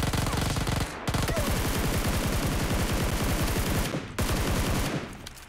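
Sustained rapid automatic gunfire in the video game PUBG Lite, loud and close, in long continuous bursts broken by two brief pauses.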